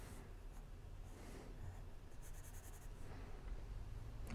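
A pen scratching steadily across paper while sketching a Zelda Link figure, continuous soft strokes close up with a brief brighter scratchy burst midway.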